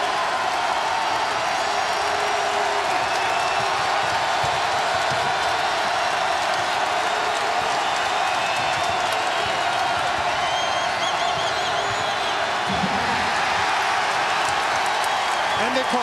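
A loud home crowd roars in the McLeod Center during a Wichita State at Northern Iowa college basketball game, a dense, continuous wash of cheering with a commentator talking over it.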